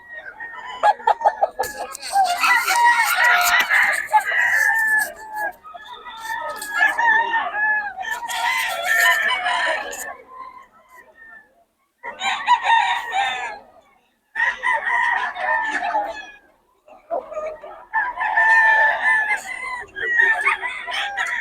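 Several roosters crow in repeated bursts in Bocaue, Philippines, with clucking and farmyard fowl sounds between calls, fairly close and loud.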